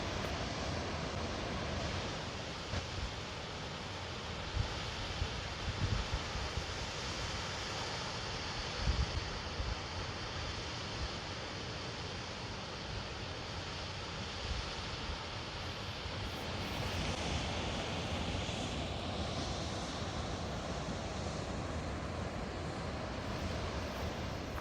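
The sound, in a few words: waterfall coming off Mount Hood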